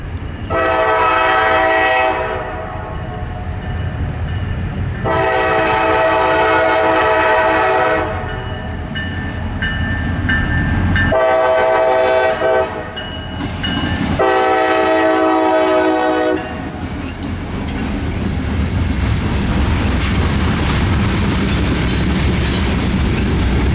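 A pair of CSX EMD diesel locomotives rolls through a small town, sounding four long horn blasts over a continuous heavy rumble and rail clatter, loud and close.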